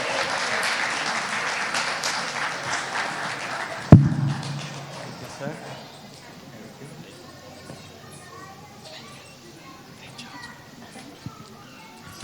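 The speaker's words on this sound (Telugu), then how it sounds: "మన స్పాన్సర్స్కి కొంచెం గట్టిగా చప్పట్లు కొట్టండి" An audience at a Ugadi community celebration claps for the event's sponsors. The applause is dense and loud at first, then cuts off sharply and is followed by quieter crowd murmur and scattered voices.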